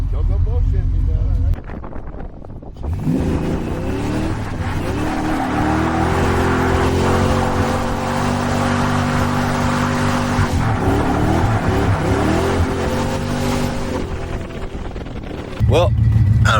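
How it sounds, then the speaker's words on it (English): Ford Mustang V8 with a fresh exhaust leak idling and revving loudly after donuts, a steady rough drone with rising and falling tones filling most of the stretch, brief voices at the start and end. "it developed the exhaust leak after that last little donut, and I don't think it's too happy with me"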